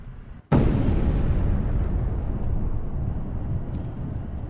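A loud grenade blast in Call of Duty: Black Ops erupts suddenly after a brief quiet, then rumbles and decays with a long, heavy tail.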